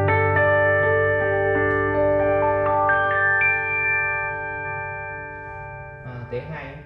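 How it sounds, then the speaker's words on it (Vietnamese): A Roland LX705 digital piano plays its shoegaze electric piano voice: a series of ringing, sustained notes stepping upward and blending into a shimmering wash, then a brief burst of a different texture near the end. "Đây là tiếng shoegaze của piano điện."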